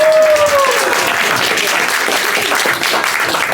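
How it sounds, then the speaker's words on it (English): Audience applause after a magic trick at a live stage show, loud, dense clapping that fills the whole stretch, with a brief whistle or voice at the start and a slight dip late on. "receive your well-deserved applause"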